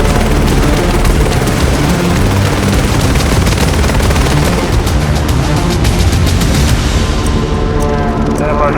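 A Gendarmerie Griffon helicopter takes off, its turbine and rotor roaring loud and close, with rapid rotor chopping pulses over a broad dense wash of noise.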